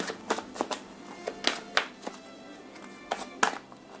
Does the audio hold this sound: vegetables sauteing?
no